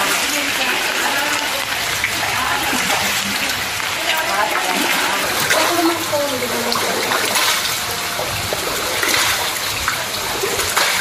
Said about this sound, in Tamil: மழைநீர் கால்வாயில் நிரம்பி வீடுகளுக்குள் சென்றது